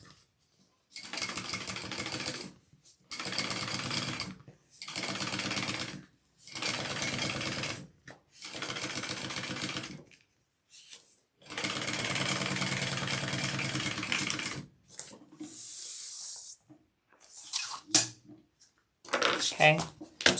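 Sewing machine top stitching along a garment lining, running in repeated bursts of steady mechanical whirring separated by short pauses, close and clear, with a brief voice near the end.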